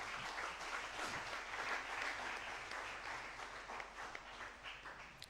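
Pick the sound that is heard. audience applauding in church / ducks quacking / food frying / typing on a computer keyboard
audience applauding in church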